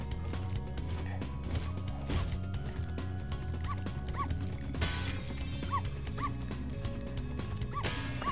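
Dog barking inside the video game Spyro Year of the Dragon, several short yips and barks scattered over busy game music and effects, moderately loud throughout.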